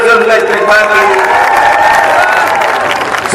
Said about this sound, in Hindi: जोरदार तालियों से उनका इस्तेमाल कीजिए।